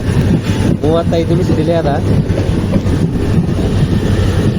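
Trains rumble past at a station between Yeshwantpur and Chikkamagaluru, a steady rolling roar under close talking, with a brief rising tonal whine near the start.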